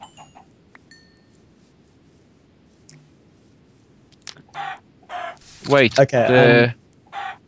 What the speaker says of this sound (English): There's a chicken here.